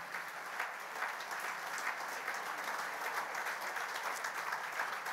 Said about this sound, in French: Applaudissons le Seigneur Jésus ce matin.